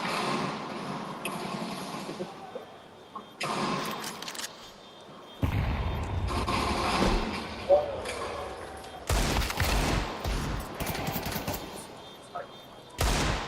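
Rapid bursts of gunfire from a Counter-Strike 2 esports match, crackling in clustered volleys at close range and mixed with game effects, with commentators talking over much of it.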